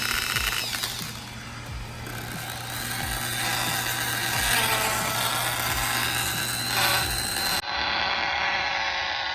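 A power sander with 800-grit paper works across the top of a car headlight lens, giving a continuous close buzzing whir with slight variations in pressure and no speech.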